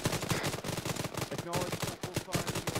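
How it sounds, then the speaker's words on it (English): Sustained automatic gunfire in a military video game, a dense rapid rattle of bursts that runs without pause, loud and close, with voices faintly under the shooting. "Open fire. Shots. Open fire, Charlie."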